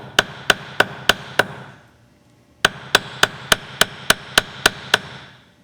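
Sharp metallic strikes of a texture hammer on metal ring out in a steady rhythm: five blows, a brief pause, then nine more, each crisp and close.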